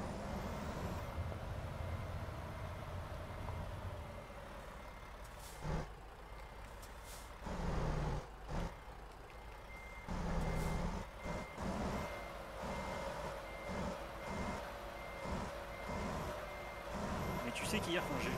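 Reversing beeps from a truck parking in American Truck Simulator, a steady repeating electronic tone over engine rumble, with air brake hisses and people talking over it.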